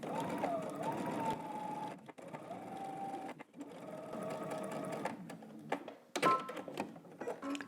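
Sewing machine understitching close to the edge of a pants fly seam, running in several bursts of steady whirring with brief pauses between, close and clear with no talk.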